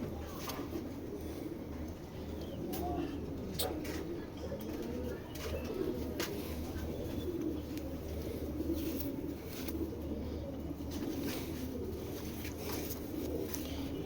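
Pigeons coo softly and repeatedly in a coop-like setting, a steady low murmur running through the whole stretch with faint background noise and occasional clicks.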